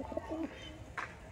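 Madras pigeons give a few low, soft coos in quick succession, followed by a brief brighter note, faint and close within a quiet coop.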